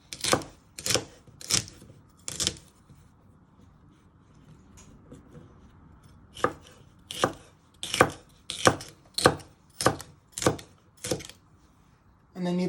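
A knife finely slicing pak choi on a cutting board, a run of sharp, distinct chops in two bursts: four strikes, a short pause, then about eight quicker strokes, close and crisp with no talking.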